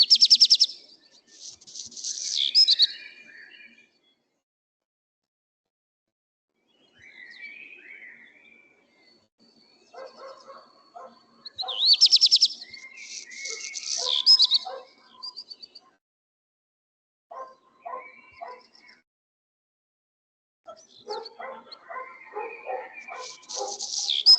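A black redstart singing, clear high whistles followed by a scratchy, crushing rattle, repeated in several phrases separated by silent gaps, faint and fairly distant.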